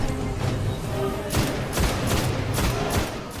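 Rapid bursts of gunfire from a Vision of Confluence scout rifle in Destiny ring out in a steady cluster of sharp cracks over dense game ambience, loud and close.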